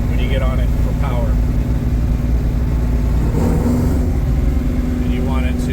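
A car engine hums steadily and builds in revs throughout, a constant mid-pitched drone with rising accelerating tones, while a person talks over it.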